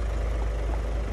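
A car engine treated with Sundar carbon antidote plus runs smoothly, giving a brief, even, low idle rumble with no voices.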